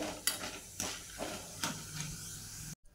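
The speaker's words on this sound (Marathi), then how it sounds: "आता डाळी पण तळून घेऊया आपण" Lentils (dal) fry in a pan of oil for corn chivda, giving a steady close sizzle broken by a few sharp clinks and scrapes of stirring, before the sound cuts off abruptly.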